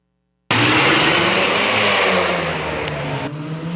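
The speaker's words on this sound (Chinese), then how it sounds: "汽车驶过街路出现真大声的声音" A car engine bursts in after a moment of silence and is revved hard at night in Kaohsiung by a valet parking attendant, a loud, close roar that sustains, then eases slightly toward the end.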